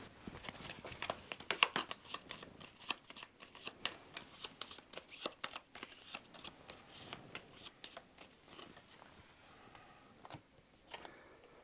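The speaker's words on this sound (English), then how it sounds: "I guess we'll shuffle these up." Playing cards for the Puerto Rico 1897 Special Edition board game are shuffled at a table, a run of quick crisp riffling snaps and soft slaps repeating steadily, close and moderately quiet with no talk.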